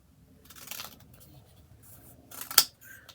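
Scissors snip through paper during a craft session, a few quiet crisp cuts with one sharper close snip near the end.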